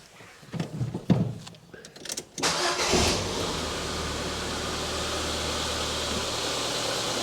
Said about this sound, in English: So I'm just going to start the engine up, give it a little rev